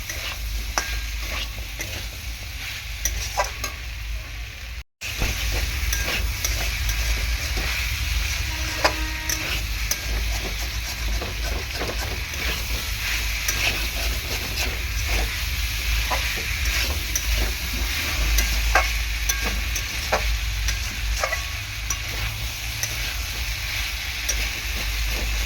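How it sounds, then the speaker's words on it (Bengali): Potato curry is stirred and fried in a pan, with a continuous close sizzle and repeated scraping strokes of a spoon against the pan, steady throughout with a brief dropout near the start. "মোটামুটি আমার আলু কষানো হয়ে গিয়েছে"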